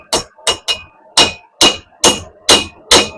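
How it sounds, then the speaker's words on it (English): A hammer strikes an anvil eight times in quick bursts, each a loud, close, bright metallic clang with a short ring, falling in a slightly uneven rhythm, alone with no talking. "The anvil's making that noise."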